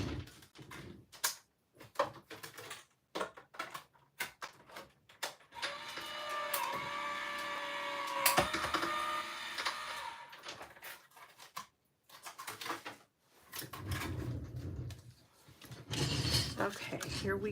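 A die-cutting machine cranks a paper circle through at a craft table, producing intermittent mechanical whirring and clicking with pauses, fairly quiet.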